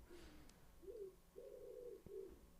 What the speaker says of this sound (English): Sound of a pigeon.